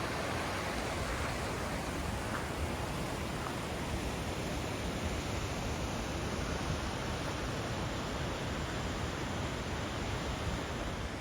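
Light rain sprinkling over a river, a soft, even hiss of fine drops that holds steady and fairly quiet throughout with no talk.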